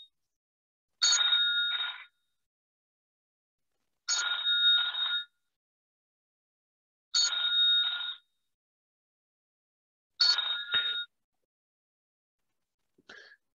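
A phone rings during a business presentation: four identical trilling bursts, each about a second long and roughly three seconds apart, fairly clear against silence. A faint fifth ring starts just as it ends.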